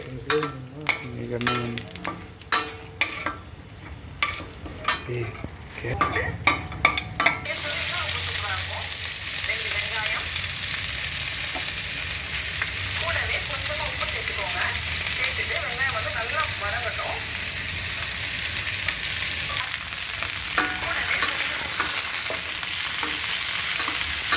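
Curry leaves and food frying in a pan: a few sharp stirring clatters at first, then a loud, continuous close sizzle with spoon scrapes carrying on throughout.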